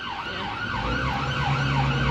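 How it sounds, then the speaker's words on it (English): An emergency vehicle siren wails in a steady, repeating rise-and-fall pattern, loud and close over a low road rumble, with no talking. "I hope their sirens aren't for me"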